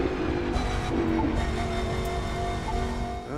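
A train rumbles steadily past in The Crew 2 racing game, a continuous loud rolling drone over road and engine noise with no talk.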